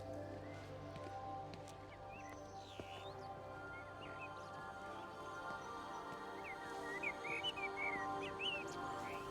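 Birdsong in the video game Everybody's Gone to the Rapture: scattered chirps and short whistled calls, mostly faint to moderate, over a steady low ambient hum, growing busier toward the end.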